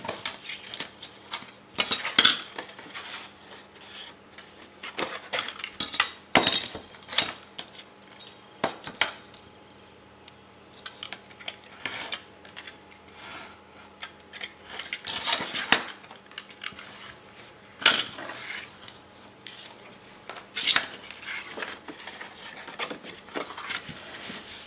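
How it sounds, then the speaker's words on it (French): Scissors snipping paper pieces for a junk journal, a series of crisp irregular cuts and rustles with rubbing handling noises between them, fairly close, with quiet gaps and no talking. "je vais venir couper dans le prolongement les morceaux qui sont trop longs"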